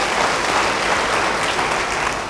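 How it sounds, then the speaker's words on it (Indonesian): A church congregation applauds steadily during a sermon, dense and sustained clapping filling the room without pause. "Beri tepuk tangan bagi dia."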